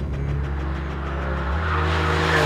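An Alfa Romeo sliding at about 160 km/h as its rear axle lets go, the engine droning steadily with a rising tire roar and hiss as the car drifts, loud and close.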